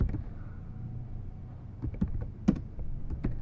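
Typing on a computer keyboard to search for WhatsApp: a few quiet, scattered key clicks over a low background hum.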